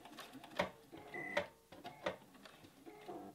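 A sewing machine stitches cork fabric with a quiet mechanical whir and a few distinct clicks, faint and close.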